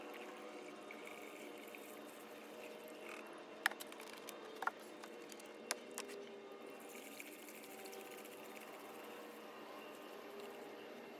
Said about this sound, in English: Take the coolant and fill it up until it doesn't want to go through anymore